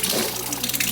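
Water rushes steadily through newly plumbed stainless hoses on a DIY wall-mounted garage pressure washer, a loud continuous hiss and splash with no talk.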